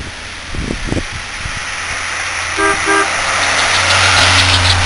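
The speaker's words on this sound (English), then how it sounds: "We're afraid that some of the cars might hit us as they drive past." A car approaches and passes along a windy roadside during an outdoor news report, its engine rumble swelling amid wind noise, with a short double horn toot midway and the vehicle sound growing closer toward the end.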